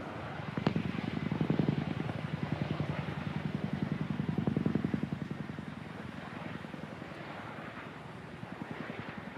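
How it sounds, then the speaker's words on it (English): Boeing Chinook twin-rotor helicopter at a flying display, its loud rhythmic blade chop pulsing steadily with engine roar, swelling and easing as it manoeuvres nearby. "the mighty Chinook continues to get the job done"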